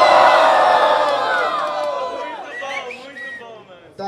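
A crowd at a Brazilian rap battle in Rocinha roars and cheers loudly, the noise fading gradually over a few seconds as scattered shouts and whoops remain.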